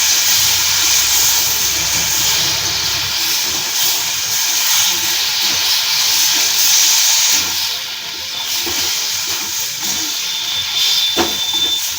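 Spice paste for aloo dum sizzles hard in a hot pan after water is added, a loud steady hissing and crackling that continues without a break.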